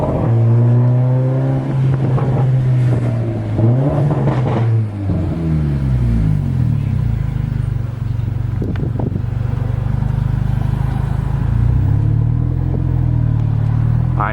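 Straight-piped exhaust on a Mercedes-Benz CLA 45 AMG, loud and close, with a deep steady drone broken by several rising revs and crackling pops as the car drives.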